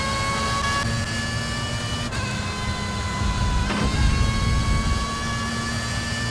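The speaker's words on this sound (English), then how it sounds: "Oh, that engine sound." High-revving race car engine in TOCA Race Driver 3 at Hockenheim, a sustained loud whine with stepped pitch changes as the car shifts gears, heard without talking.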